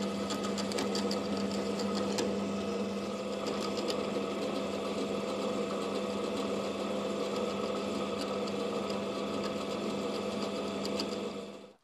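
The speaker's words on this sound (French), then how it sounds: "Alors j'ai terminé de percer les plaquettes." Drilling holes through knife handle scales, a steady whirring machine drone with a constant hum running the whole time, close and loud, with no one talking.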